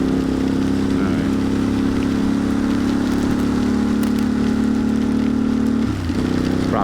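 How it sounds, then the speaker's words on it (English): Heavy rain falls on a motorcycle lane splitting through Friday traffic from Brooklyn to the Bronx, with a constant loud wash of noise and a steady engine drone underneath. "It's proper rain now."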